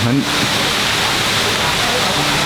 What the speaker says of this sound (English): this is a very beautiful canyon, very beautiful waterfall.